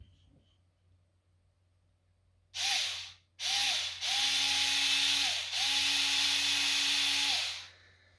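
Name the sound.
drilling a hole with a 2 mm drill bit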